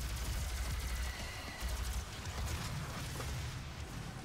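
A shotgun's explosive shot, a grenade round in DOOM, fires with repeated heavy low booms and dense rumbling blasts across the whole span, loud and close with no voices.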